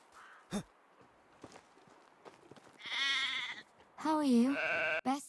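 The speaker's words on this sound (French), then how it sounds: "Ah, des moutons." Sheep bleating in the medieval farming game Medieval Dynasty, two loud wavering bleats near the end after a quiet stretch with faint footsteps, one ending abruptly.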